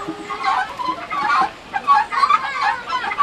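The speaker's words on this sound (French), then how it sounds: "Là, c'est les coqs." Roosters on a farm cluck in close, busy, overlapping bursts that carry on steadily throughout.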